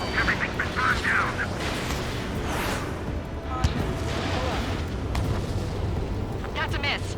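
Missile attack and explosions in the Ace Combat 7 flight combat game, a dense continuous roar of booms and blasts throughout, with radio voices calling out over the din.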